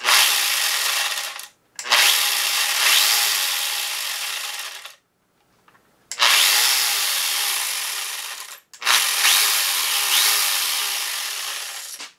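An angle grinder fitted with a chainsaw attachment whines loudly in three long bursts, each spinning up and trailing off, with short silent gaps between runs.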